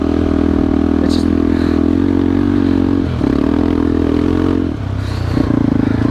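A KTM Adventure 390 motorcycle ridden off-road on trails, its steady engine drone holding one pitch, briefly dropping near the middle and again toward the end, with faint clatter from the terrain.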